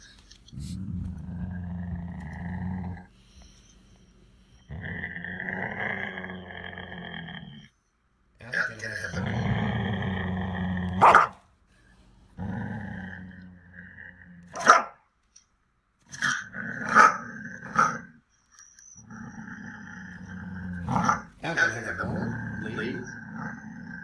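Dogs growl and bark in a played video about resource guarding, with low rumbling growls breaking into sharp barks in bursts, under and between a person talking.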